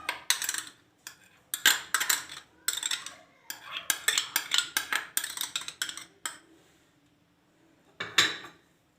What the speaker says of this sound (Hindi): इन तमाम चीज़ों को अच्छी तरह मिक्स कर लें।